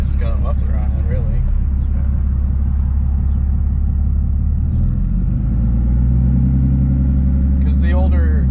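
A 4th-gen Dodge diesel truck fitted with a 10-inch exhaust tip idles with a loud, deep, steady rumble close by, while people talk over it throughout.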